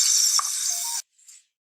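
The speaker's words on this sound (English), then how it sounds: "Hold the steak and just place it into the pan." Steak hits a hot frying pan with a loud, bright sizzle that runs for about a second and then cuts off abruptly, followed by a brief faint hiss.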